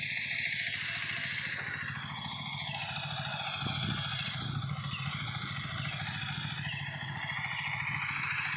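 A farm water pump motor runs in a field, giving off a steady, buzzing drone that holds unbroken and fairly faint throughout, with nobody speaking over it.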